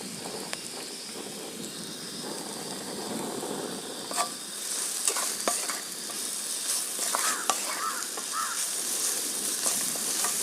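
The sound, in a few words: sautéing onions with salt in a pan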